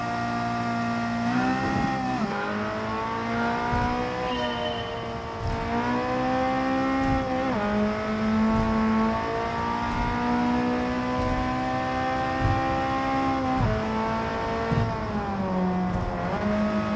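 Mazda RX race car in Gran Turismo 7 holding a loud, steady high-revving engine note with pitch dips at gear changes and brief tire squeal, continuous and close.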